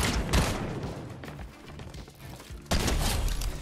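Rapid bursts of gunfire from a shooting video game, loud and dense near the start and again at the end, with a quieter stretch between.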